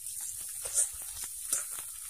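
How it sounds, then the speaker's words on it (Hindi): Green chillies fry in hot oil with crackled mustard seeds for a red amaranth (lal bhaji) dish, making a soft, steady sizzle close by with a couple of faint pops and no voices. "सरसों के दाने जब फूट जाए तो इसमें हरी मिर्च को डाल देंगे"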